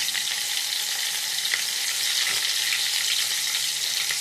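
Cumin seeds and green chilies fry in hot oil for sabudana khichdi, giving a dense, even, close-up sizzle that carries on throughout, with a couple of faint stirring taps and no talking.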